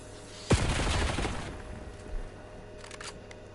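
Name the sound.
hand cannon gunfire in Call of Duty Cold War video game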